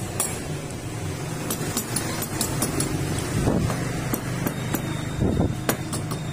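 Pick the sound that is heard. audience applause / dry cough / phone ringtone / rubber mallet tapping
rubber mallet tapping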